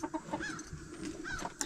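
A chicken on a farm homestead clucks in a quick, busy series of close, moderately loud calls, with no talk over them.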